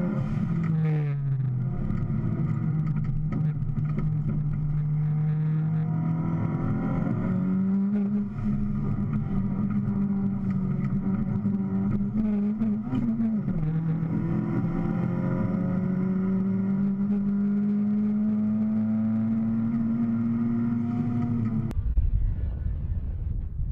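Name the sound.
VW Jetta race car driving the Pikes Peak course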